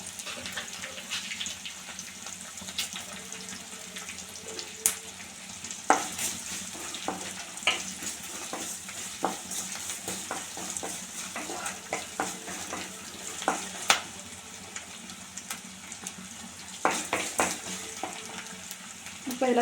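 Garlic with chana dal, urad dal and a pinch of salt sautés in a pan for chutney, a soft steady sizzle with frequent sharp spoon scrapes and taps against the pan.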